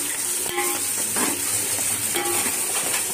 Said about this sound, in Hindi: सबसे पहले मैं प्याज को फ्राई कर लूंगी।